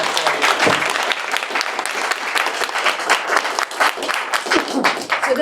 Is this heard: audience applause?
yes